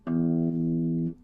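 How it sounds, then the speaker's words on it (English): A single plucked open low E guitar string rings out clearly and sustains for about a second before being cut off. "We have open E,"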